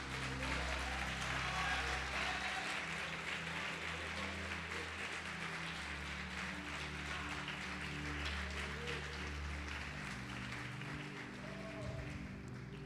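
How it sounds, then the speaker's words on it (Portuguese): Church congregation applauding during a sermon, steady rapid clapping at a moderate distance over a sustained low musical drone. "Pode aplaudir o Senhor Jesus"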